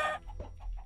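A Minecraft chicken gives a few short clucks, quiet and close, with brief gaps between the calls and no talk over them.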